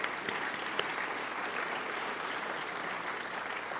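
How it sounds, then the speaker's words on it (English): Audience at an environmental leadership awards ceremony applauds steadily for nearly four seconds, a dense wash of clapping hands heard at a moderate distance with no talk over it. "Let's give them a round of applause."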